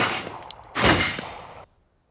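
A single sharp pistol gunshot from a Glock or Beretta cracks out after a brief moment of noise, its echo fading over about a second before silence.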